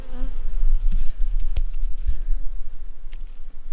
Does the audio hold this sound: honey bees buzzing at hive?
yes